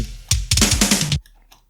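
A quick drum fill from a track, sharp punchy hits rolling together for about a second, then cutting off abruptly into near silence.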